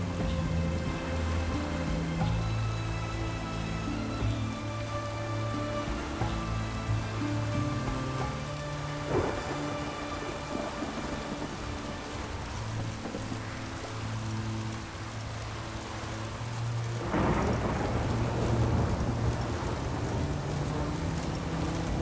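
Rain in The Witcher 3 falls as a steady, enveloping hiss over a low sustained hum, with a slightly louder surge of rain partway through; no voices.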